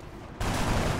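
Sustained burst of gunfire in the XCOM: Enemy Within video game, erupting suddenly partway through as a dense, loud rattle of rapid shots that continues to the end.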